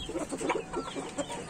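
A hen clucks in a short run of soft, irregular calls close by, with no talk over it.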